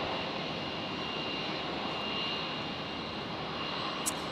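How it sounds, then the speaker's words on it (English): A QantasLink Dash 8 turboprop touching down at Brisbane airport comes through as a steady, moderate engine drone with a faint high tone, continuous and without voices, ending with a brief sharp click. "another Qantas Link Dash 8 coming in now. It's just touched down from Harvey Bay"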